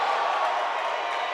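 Basketball crowd in a college gym roaring after a blocked shot late in a close Bates vs Wesleyan game, a steady loud wash of cheering that holds through the whole moment with no clear talk over it.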